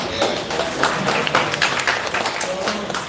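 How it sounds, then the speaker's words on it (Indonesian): Audience applause at an Indonesian lecture on international geopolitics, a steady dense wash of many hands clapping throughout, with some voices mixed in. "Tepuk tangan ya."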